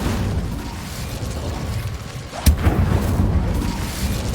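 A fire spell cast as Incendio in the video game Hogwarts Legacy: one sharp burst lands midway through a steady, rumbling background, followed by a crackling roar and no voices.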